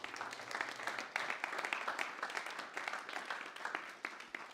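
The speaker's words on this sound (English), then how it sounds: "Let's give him a warm round of applause." An audience claps at a talk about technology, art and advocacy, a dense, sustained round of applause at moderate distance with no voices over it.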